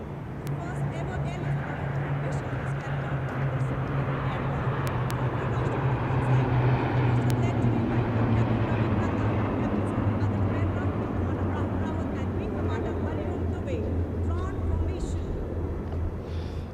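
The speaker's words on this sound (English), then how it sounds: "इसमें आगे एक C-17 और पीछे 2 C-130 400 मीटर की ऊंचाई पर राजपथ के उत्तर में वाटर चैनल के ऊपर से निकल रहे हैं" Steady, broad roar of a C-17 and two C-130 military transport aircraft flying over at 400 metres during a Republic Day parade on Rajpath, a continuous loud drone that swells slightly midway, with commentary talk underneath.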